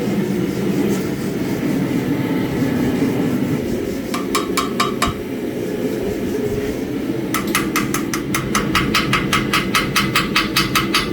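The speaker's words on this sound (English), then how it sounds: "I'm going to have to hammer that out as well" A hammer rings on the lip of a forged flint striker in short bursts of rapid metallic blows, first a brief cluster and then a longer run, over a steady roar of the forge.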